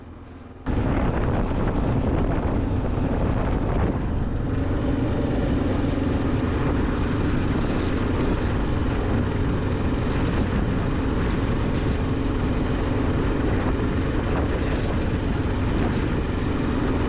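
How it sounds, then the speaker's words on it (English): A Kawasaki KLR650 motorcycle riding along, its engine a steady rumble heavily mixed with wind buffeting the microphone, loud and continuous after a brief quiet start. "The KLR is sounding great and running great."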